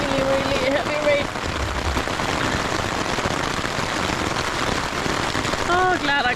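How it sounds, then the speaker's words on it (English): Heavy rain pounds a tent during wild camping in Padjelanta National Park, Sweden, a dense, loud, unbroken patter heard from inside, with brief talk at the start and end. "Really, really heavy rain."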